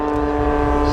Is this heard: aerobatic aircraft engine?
yes